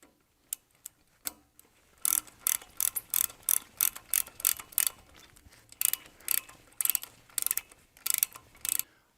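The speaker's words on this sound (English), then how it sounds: "So now we can go in and tighten up the rest of our bolts" Motor and casing bolts on a close-coupled kit assembly are tightened with a ratchet, producing quiet scattered clicks followed by repeated bursts of rapid, crisp ratcheting with short pauses between strokes, close up and with no talking.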